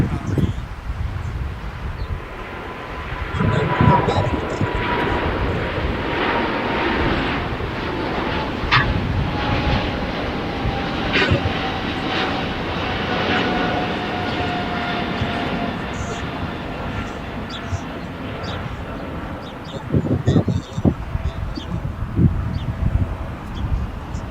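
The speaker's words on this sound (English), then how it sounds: "right now we are looking at the departure of Air Baguette heading back to Paris" An Air Baguette airliner departing LAX for Paris, its engines a steady, moderately distant roar that swells and fades over nearly half a minute, with wind and rustling around it.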